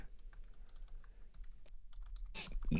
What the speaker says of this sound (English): Now I'm typing away.